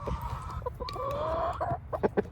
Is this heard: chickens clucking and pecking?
yes